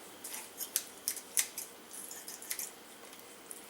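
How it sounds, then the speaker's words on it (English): Kitchen scissors cutting raw chicken wing beneath the joint, a series of quick, crisp snips spaced irregularly, close and quiet, with no talking. "Just snip a little underneath the wing."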